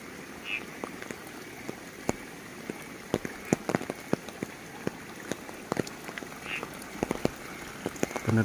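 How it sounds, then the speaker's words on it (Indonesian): Light rain drizzles steadily in a misty Javanese countryside, with scattered sharp drips tapping nearby surfaces at an irregular pace under a soft, constant wash. "Ini juga kabut tipis masih menyelimuti beserta gerimis."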